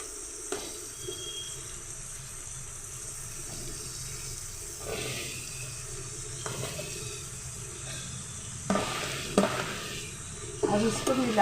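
Potato, eggplant and spinach tipped into sizzling tempered spices and stirred, a soft steady hiss with occasional spoon scrapes and clatters that grow louder toward the end.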